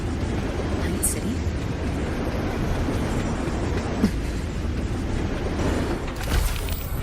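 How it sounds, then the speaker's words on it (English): Night City train from Cyberpunk: Edgerunners appearing in the Wuthering Waves video game, a steady low rumble with a brief swell near the end, mixed under game ambience. "What's a Night City train doing behind a door?"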